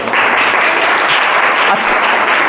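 Schoolchildren clap together in a classroom, a dense, steady burst of applause that fills the short stretch from start to finish, loud and close.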